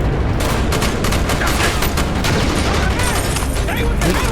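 Rapid gunfire in Call of Duty Black Ops rattles loudly and continuously, dense bursts of shots packed together with faint voices underneath.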